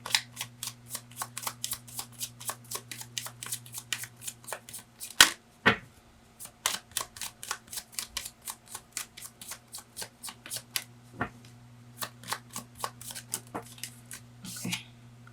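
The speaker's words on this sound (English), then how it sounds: "when I was shuffling, because all these cards are pre-shuffled" Tarot cards are shuffled over and over in quick rhythmic riffles, close and crisp, with a steady low hum behind and a couple of louder slaps.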